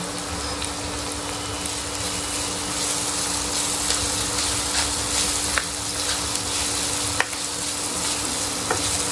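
Chopped onion frying in a pan crackles and sizzles loudly and close up, a constant bubbling hiss with occasional small pops as it is stirred, and no one talking.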